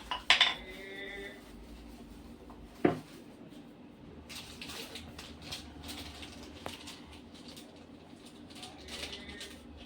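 Small spoon clinking against dishes in a home kitchen, a couple of bright, sharp clinks near the start and another around the third second, followed by softer scattered clatter at moderate distance.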